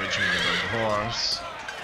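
Cavalry horses in the Empire: Total War video game let out a loud, close whinny that rises and falls over about a second, with faint hoof clatter and a brief higher sound at the end.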